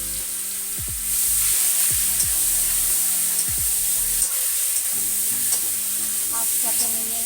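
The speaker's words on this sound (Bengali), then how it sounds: "চলো এবার চিকেনটা ঢেলে দেই।" Marinated chicken for biryani poured into hot oil: the sizzle surges loudly after a second, then carries on as a dense, steady fry under repeated scraping stirs, with no voices.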